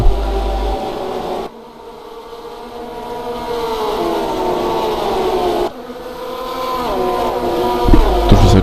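Racing car engines in a sim racing game at a race start, a loud sustained whine with rising and falling harmonic pitch, a brief drop in level then climbing again as several cars accelerate together.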